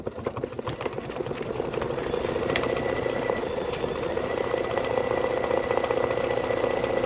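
An embroidery machine runs quilting stitches on a tea towel, its fast needle chatter forming a steady mechanical hum that holds even and close from start to finish.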